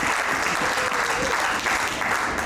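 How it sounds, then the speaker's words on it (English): Audience applause at a Farm Aid 2024 panel, steady and dense for the whole stretch with no voices on top. "can we get one more round of applause?"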